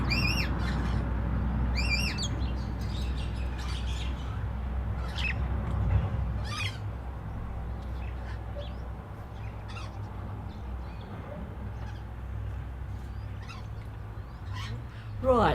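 Rescued sick and injured birds squawk and chirp in repeated short calls throughout, a lively close chorus over a steady low background hum.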